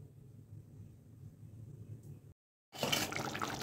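A low kitchen rumble stops into a short silence, then water rushes loudly and close into a pot of papaya and potato curry until the end.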